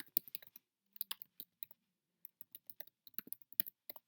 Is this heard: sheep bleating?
no